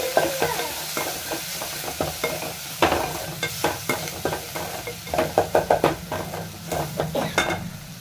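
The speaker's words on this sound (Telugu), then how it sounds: "కొంచెం పసుపు వేసుకొని బాగా కలపాలి." Fried onions being stirred with turmeric in a pan for egg curry, close rhythmic spatula scrapes and knocks against the metal over a continuous sizzle, the strokes quickening into a regular beat in the second half.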